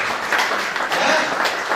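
A church congregation claps during a sermon: a short, dense burst of audience applause at moderate loudness, filling the moment without a clear voice over it.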